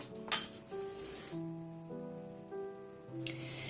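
A spoon clinks against a bowl while lemon juice is stirred into a masala, a sharp metallic tap near the start and then a few faint scraping touches over quiet music.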